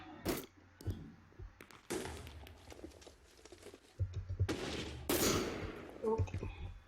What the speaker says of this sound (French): On va utiliser notre flashbang.